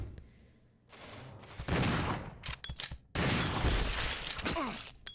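A shotgun fires in the video game Resident Evil 0, with loud booming blasts and crashing impacts coming in dense bursts, separated by brief quieter gaps and mechanical clicks.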